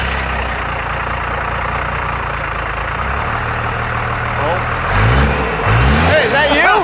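Cummins diesel engine swapped into a Cadillac, loud and close, running steadily and then revving up and down near the end, with a voice talking over it.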